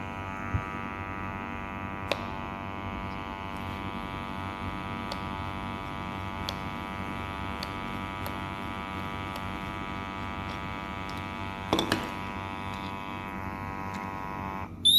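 Steady electric buzz of a portable gas detector's pump running, a faint continuous hum with a few small clicks and handling knocks.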